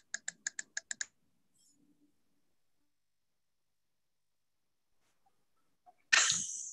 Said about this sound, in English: I got distracted by the typing that I was hearing in the background.